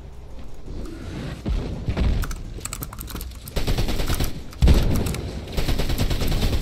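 Bursts of automatic gunfire spray in Fortnite ranked play, rapid rattling volleys with a few heavier booming shots, all close and loud across the whole stretch, with no voices.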